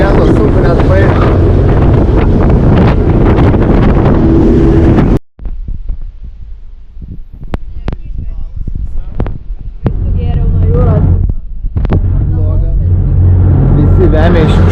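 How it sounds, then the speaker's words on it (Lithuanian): Heavy wind buffets a ferry tossing on big sea waves between Koh Phangan and Koh Tao, roaring loud and close for the first five seconds, then gusting more unevenly with scattered thumps as people speak. "vėlė kokios didelės bangos"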